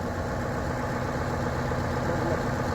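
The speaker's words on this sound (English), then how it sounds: "it's a water cooled Deutsch engine" A water-cooled Deutz engine idles steadily on a farm chaser bin setup, a loud, even mechanical drone with a constant low rumble and no breaks.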